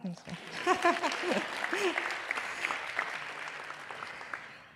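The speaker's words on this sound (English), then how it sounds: "Youssef, you can clap." Applause swells under a voice speaking at the start of a 2021 school awards ceremony, a steady patter of clapping from a crowd that gradually fades.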